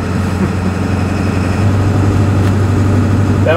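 A Ford 7.3 liter diesel engine running with water-methanol quenching, a loud, steady low rumble that holds close and constant, without a clear rise in revs and with no voices.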